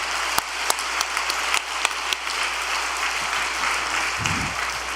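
A gathered audience at a religious training assembly claps in thanks, a steady dense wash of applause with a few sharper claps standing out, held fairly loud throughout.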